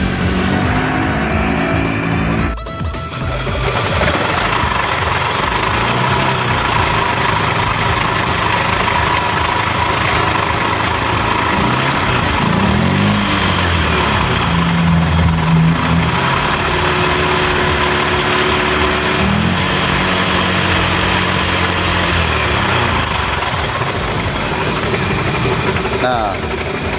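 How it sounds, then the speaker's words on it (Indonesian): A Honda Beat scooter engine idles with a rough, knocking rattle, running steadily and close by for the whole stretch with no speech over it. "kedengaran nggak teman-teman suaranya seperti ini ya, menggelotok."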